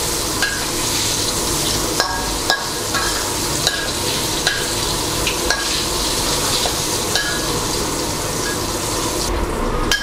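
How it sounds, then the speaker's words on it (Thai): Battered fish pieces, coated in all-purpose crispy frying flour, fry in hot oil with a steady, dense sizzle that continues throughout, broken by faint clinks and stirring sounds. "เราจะทอดให้เนื้อปลาเหลืองกรอบกลางปลาก็นำแป้งทอดกรอบอเนกประสงค์มาคลุกเคล้าด้วยนะครับ"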